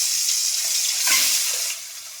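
Eggs fry in hot oil in a wok, a steady, fairly loud bright sizzling hiss that swells briefly, then drops to a softer level near the end, with no talking.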